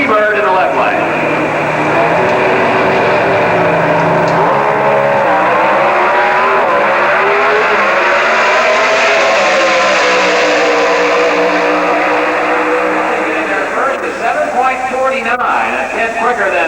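Two drag cars at the 1988 NHRA Winternationals in Pomona, the A&P Automotive car in the right lane and the Motorcraft Quality Parts Thunderbird in the left, roar loudly and continuously down the strip under an announcer's commentary.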